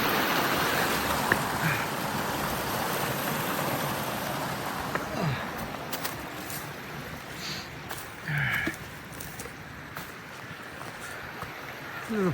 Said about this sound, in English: Oh, little waterfall right there.